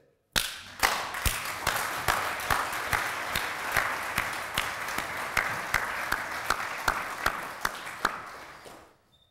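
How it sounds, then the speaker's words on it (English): An audience at a keynote address on race gives sustained applause after a call to honour speakers' courage, a dense, even clapping with sharp individual claps standing out, fading near the end. "I might ask that we applaud at those who said it and the courage with which they said it"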